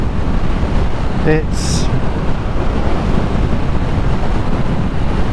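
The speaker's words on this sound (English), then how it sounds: "Now the wind here, so we're doing around 70 and it's windy" Steady, loud wind roar buffeting the microphone on a Harley-Davidson Sportster S motorcycle at around 70, a dense rushing noise throughout with a brief tonal blip early on.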